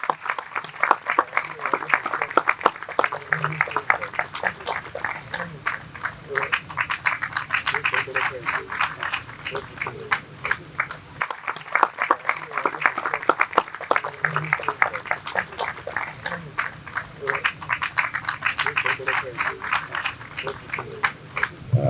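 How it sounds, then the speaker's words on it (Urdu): Audience claps together at a Christian daughters' conference in Pakistan, a long stretch of rhythmic, fairly loud clapping running under intermittent background voices. "اس وقت ہم سب مل کر زوردار تالیاں بجائیں گے"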